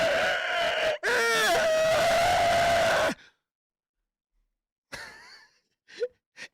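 A voice imitates the guttural, psychotic scream of a man stabbed in the leg. It comes as a long, strained, wavering cry, then silence, then a few short breathy vocal bursts.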